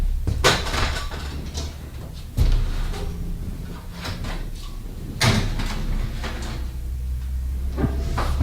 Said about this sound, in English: now we're going to stick them in the oven